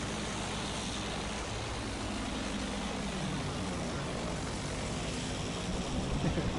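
A propeller plane in the Battlefield 1 video game, a steady dense engine drone with a throaty rotor buzz that holds at constant loudness throughout, no voices.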